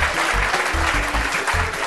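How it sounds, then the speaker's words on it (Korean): A studio audience breaks into applause at a financial talk show introduction, a dense, loud wash of clapping with a low rhythmic music beat pulsing beneath it. "박수 부탁드립니다."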